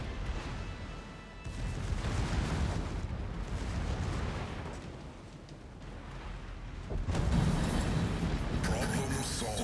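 A warship's secondary guns firing in the naval combat game World of Warships: a steady wash of booming, rumbling gunfire with long swelling surges and no distinct single shots, fairly loud and continuous.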